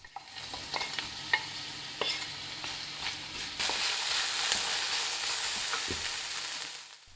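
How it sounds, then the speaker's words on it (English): Vegetables stir-fried in a heated steel wok, with scraping stirs and soft clatters in the first half giving way to a steady, louder sizzle in the second half; no one speaks. "Begin by cooking the vegetables."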